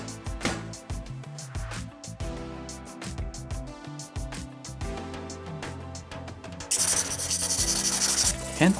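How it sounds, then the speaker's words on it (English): A forged steel tanto wakizashi blade, made from a coil spring, is polished by hand with abrasive paper up to 1000 grit. Steady rhythmic rubbing strokes continue throughout, growing louder and harsher near the end. "Hand polishing the blade up to 1000 grit, and then buffing on the wheel."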